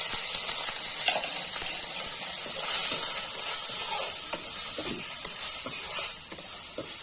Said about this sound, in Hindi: हम तल लेंगे पहले।